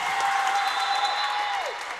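Crowd at a women's college basketball game, Kalamazoo against Manchester, applauding steadily in a gym, a dense wash of clapping with a sustained whistle-like tone over it that drops away near the end.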